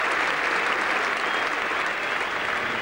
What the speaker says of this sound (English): Fairbrother ran brilliantly and applauds Robin Smith's 50